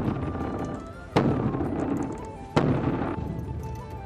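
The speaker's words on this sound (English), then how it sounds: "director at the time, Paul Spotts Emmerich, he wanted a drum bigger than the man playing it" Huge parade bass drum, taller than its player, struck twice with heavy booming hits about a second and a half apart, each blow sharp and loud, ringing over a busy crowd din.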